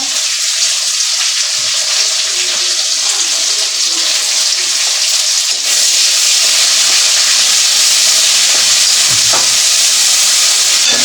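Onion paste going into hot oil in a village kitchen, a steady loud hiss and sizzle of frying that runs throughout with little change, no talk over it.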